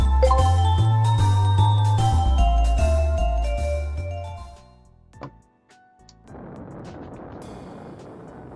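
Video game start jingle from the Miku Legends 2 patch, a bright tinkling melody over a bass line that fades out, followed by a brief ding and then a steady ambient hum.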